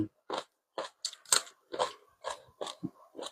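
Crunchy food made with glass noodles, wood ear mushrooms and blanched shrimp being chewed close up, a series of sharp, crisp crunches in an uneven rhythm with short silent gaps between bites.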